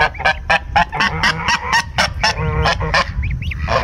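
Geese honking repeatedly at close range, a rapid series of loud, harsh calls with a few quieter squeaky notes near the end.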